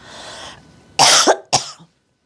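Two sharp, close coughs in quick succession after a brief breathy sound, then silence.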